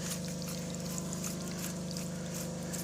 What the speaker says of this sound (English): This is the area where the water is just coming.